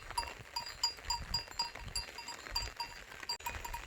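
A flock of sheep moves across foggy mountain pasture on a rainy day, with bells clinking in an irregular rhythm and low rustling and shuffling nearby, no voices.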